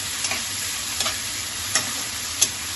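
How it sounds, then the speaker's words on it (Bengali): Spices and onion being stirred and fried in a pan while making ghugni, a low steady sizzle with a few sharp scrapes of the spoon against the pan, close and alone. "এবার এটা কষানো দেখি, এবার কতদূর কষানো হচ্ছে দেখি।"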